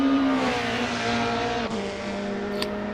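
BMW touring race cars circling a racetrack with tires struggling for grip, a loud sustained engine drone with squealing tires, one abrupt shift in tone partway through.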